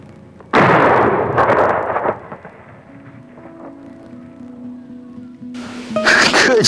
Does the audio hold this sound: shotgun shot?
yes